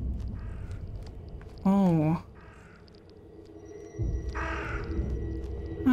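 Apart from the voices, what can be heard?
crow cawing in the video game The Sinking City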